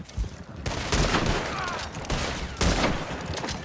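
Gunfire aimed at cavalry riders in Red Dead Online, a dense fusillade of overlapping shots in bursts over a constant noisy battle din, loud and continuous.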